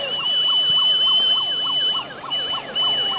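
A high, steady steam whistle on a model steam launch blows continuously, briefly breaking off, while a lower warbling siren-like tone sweeps up and down beneath it.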